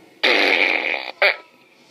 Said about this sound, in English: the really special one is the fart gun